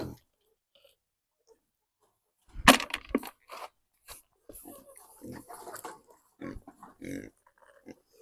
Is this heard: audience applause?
no